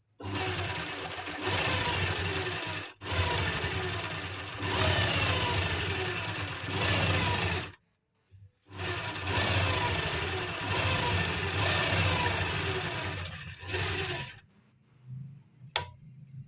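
Domestic sewing machine stitching kameez fabric, a fast rhythmic mechanical chatter running in long bursts with brief pauses between seams, close and continuous.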